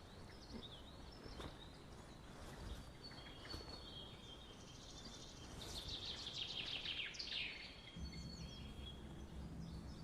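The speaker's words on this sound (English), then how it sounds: "The spring birds are singing." Spring birds singing in Scottish countryside woodland, scattered faint chirps and short warbling phrases over a quiet background with soft insect-like buzzing.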